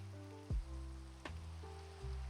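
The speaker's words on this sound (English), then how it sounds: "It's raining in the game, Pod." Rain falling in a video game, a steady soft hiss of drops pattering on surfaces, fairly quiet, with a few brief thumps and sharp clicks breaking through the continuous wash, no voices.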